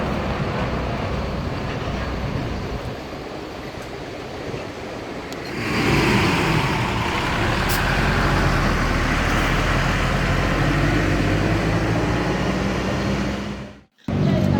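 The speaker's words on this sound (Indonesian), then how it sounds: "ini adalah unit ketiga PO ANS yang berangkat menuju kota Jakarta dan sekitarnya, yang langsung saja meninggalkan terminal Bukit Surungan" A PO ANS intercity bus pulls out of the Bukit Surungan terminal bound for Jakarta, its engine rumble swelling loud and close partway through and then holding steady, with a sharp dropout near the end.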